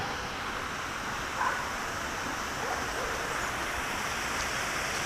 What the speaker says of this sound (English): you can sort of hear the waterfall.